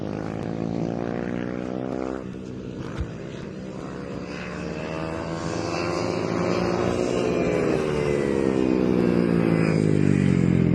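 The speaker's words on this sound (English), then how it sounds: "Mini bikes, race 1," Youth mini bike motorcycles racing in Bermuda, a buzzing high-revving engine whine that rises and falls in pitch as the bikes pass, growing louder toward the end.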